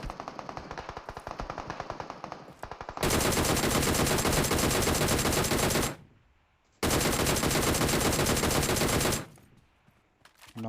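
Sustained rapid automatic gunfire from a VSS rifle in a shooter video game, military base setting, two long loud bursts of dense shots with a brief pause between them and quieter firing before.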